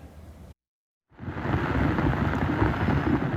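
Rain and thunder over Faridpur, falling around a government children's home: after a brief drop to silence, a loud, steady roar of rainfall with low rumbling sets in and continues without a break. No voices.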